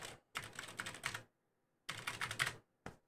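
Bursts of fast typing on a SteelSeries Apex Pro keyboard, two long runs of close, crisp key clicks separated by a pause, then a brief final flurry, with no talking.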